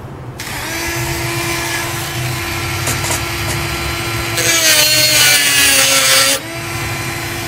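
A saw cuts through PVC pipe for a skeleton hand prop in a continuous, close, loud rasping stroke that grows harsher for a couple of seconds before easing off.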